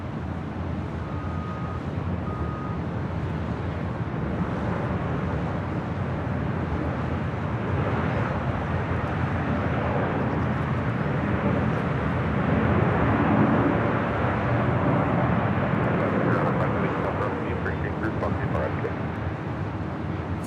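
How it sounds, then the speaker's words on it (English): Boeing 747-400 jet taking off at Los Angeles International Airport, a steady broadband engine roar that holds for the whole stretch, with wind buffeting the microphone and a voice talking over it. "It's a 747-400 lighting up"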